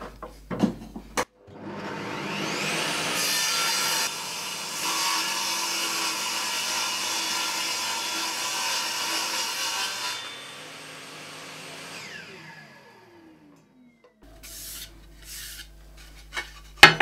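Hand saw cutting through a wooden block, a steady rasping back-and-forth stroke lasting about ten seconds and then fading out, followed by a few faint knocks and handling sounds close by.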